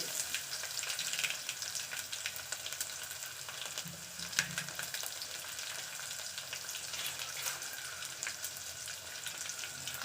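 Mustard seeds fry in a little oil for a radish rasam, giving a steady close sizzle with faint crackling pops throughout; no talking.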